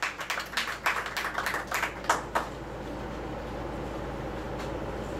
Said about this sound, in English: Give them all a round of thunderous applause to our signees.